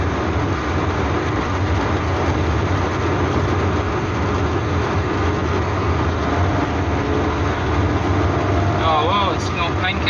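A Hillman Superminx car engine hums steadily while driving, a constant low drone with road and cabin noise close by and a brief whining squeak near the end.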